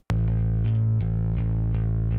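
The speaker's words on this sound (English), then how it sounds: "Bass sounds like this." A deep, sustained bass guitar note rings out alone, with a few plucked notes repeating in a steady rhythm, close and full.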